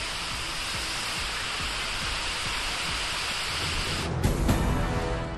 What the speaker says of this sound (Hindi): तेज बारिश के साथ चली आंधी।